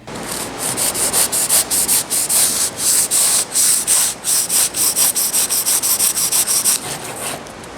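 Rhythmic back-and-forth rasping of a knife sawing through wood, close and loud, with about two dozen regular strokes and no talking.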